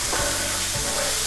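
Food sizzles steadily in an electric frying pan set to 375 degrees for Philly cheesesteak sloppy joes, a loud, continuous close-up hiss with no pauses.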